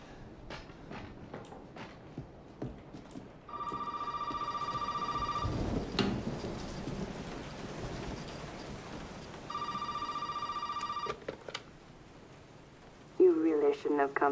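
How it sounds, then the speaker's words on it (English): An in-game telephone rings twice in Resident Evil 7, each ring a steady trilling burst lasting a couple of seconds, separated by a pause, with someone talking quietly at the start and end. "Phone's ringing."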